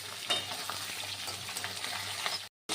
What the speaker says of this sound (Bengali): তো মাছগুলোকে আমি ভালো করে ভাজা করে নেব।